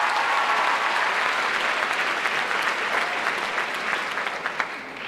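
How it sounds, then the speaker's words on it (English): A senior class at a school ceremony applauds a teacher, steady dense clapping from a large crowd at moderate level, tapering off toward the end. "Senior class, give her a round of applause."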